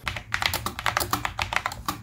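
Typing on a Corsair K70 Mk.2 Low Profile keyboard during a sound test: quick, close, crisp clacks in an uneven burst of roughly a dozen keystrokes, heard alone without speech.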